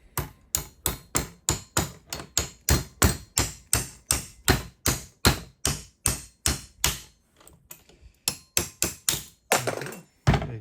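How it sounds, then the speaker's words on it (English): A hammer pounds a stubborn piece out of a barn door, a rapid run of some thirty sharp, evenly spaced knocks at close range, pausing briefly and then resuming with a few more blows. "Let's give it a go with the hammer."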